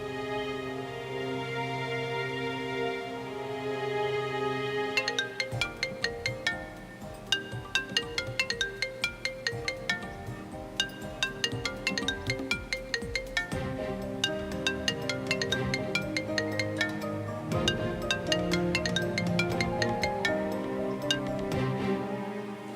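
A phone ringtone plays during a call in an Indian TV drama, a steady melodic electronic tune with ticking rhythmic accents repeating for about twenty seconds, with no talking over it.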